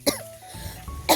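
Two short, sharp coughs from a person with a cold, one at the start and one at the end, with a quiet stretch and a faint hum between them.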